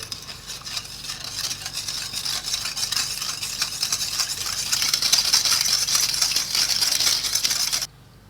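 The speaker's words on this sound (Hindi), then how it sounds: "चीनी को दूध में अच्छी तरह मिक्स करना है ताकि इसके अंदर ये सही मेल्ट हो जाए।" A spoon stirs sugar into milk for pudding, giving a continuous close scraping and swishing that grows busier toward the end and then stops abruptly.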